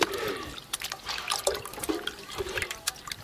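Turmeric decoction being stirred by hand into a 100-litre drum of water for a chilli crop spray, giving close, irregular sloshing and splashing with repeated swirling bursts.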